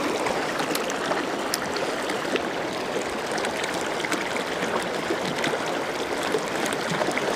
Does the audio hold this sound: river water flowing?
yes